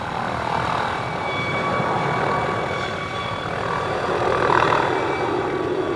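A helicopter flies at the Farnborough air show in 1992, producing a steady, moderately loud rotor and engine drone with broadband rumble that swells slightly toward the end, no talking.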